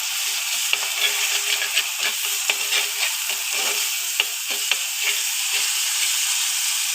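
Crushed aromatics for a Kerala fish curry saute in hot oil in a pan, a steady close sizzle and hiss punctuated by light scraping stirs, with no talking.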